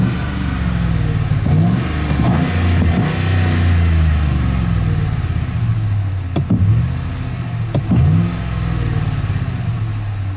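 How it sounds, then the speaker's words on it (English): A 2007 Ford F150 pickup's engine idles in park with a deep, steady rumble, then gets two short, sharp revs near the end that swell and drop back quickly, heard from inside the cab. "I'll rev it from the inside too"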